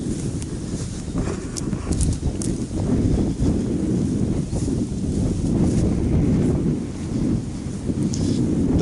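Strong gusting wind buffets the microphone beside a small river during an April bream-fishing trip, a loud low roar that swells and eases continuously with no talk.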